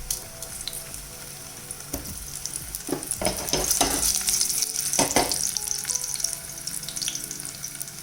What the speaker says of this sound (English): While my sausage is like kind of cooking